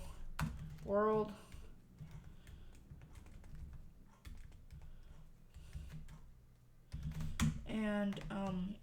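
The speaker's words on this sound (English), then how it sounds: "let's type in some text like hello world" Computer keyboard typing text into an iOS simulator during Swift app work in Xcode: a steady run of quick, close key clicks, with a voice speaking briefly near the start and again at the end.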